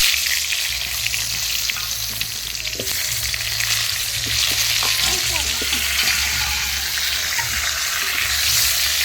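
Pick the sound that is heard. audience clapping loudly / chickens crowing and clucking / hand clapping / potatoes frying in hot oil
potatoes frying in hot oil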